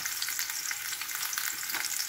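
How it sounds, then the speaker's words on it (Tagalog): Fried fish going into a simmering pan of coconut-milk tuna stew, giving a steady close-up sizzle and bubbling with soft stirring scrapes, with no voices. "At ilagay na po natin itong ating pritong isda."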